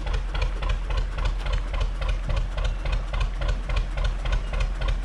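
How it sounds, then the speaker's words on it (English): A 1947 Gardner 2LW diesel engine driving a canal boat, running with a steady, rhythmic low thumping that stays close and even throughout, with no talk over it. "that's the Gardner 2LW, and the boat sounds absolutely beautiful"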